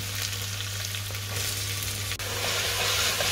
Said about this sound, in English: we have to cook the onions till they turn brown